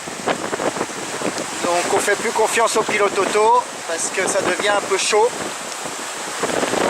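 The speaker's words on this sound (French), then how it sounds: "Le vent est un peu monté, qu'à 20 nœuds à peu près." Strong wind of about 20 knots and waves at sea on a sailboat during the Transquadra race, a steady rushing roar under close conversation throughout.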